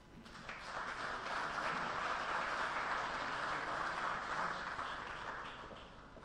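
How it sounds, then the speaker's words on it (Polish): A hall audience applauds after a speech at a World Engineer's Day event, with dense, steady clapping that swells in quickly, holds for several seconds and then tapers off, and no talking over it. "O ile tamte brawa były awansem, jak pani prezes mówiła, to te były już jak najbardziej zasłużone."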